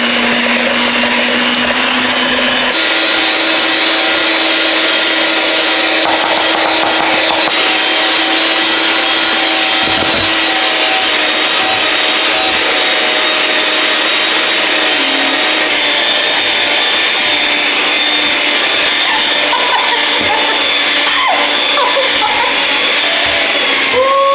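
A handheld electric mixer works dough one cup of flour at a time in a home kitchen, a loud continuous motor whir holding steady throughout with slight changes in pitch as the load shifts.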